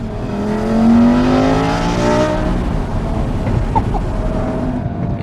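A 2007-era sports car engine, a Ferrari 430 Scuderia, Porsche 997 GT3 RS or Lamborghini Gallardo Superleggera, revs sharply on a downshift, the pitch rising then falling as it settles into a loud, steady drone heard from inside the cabin.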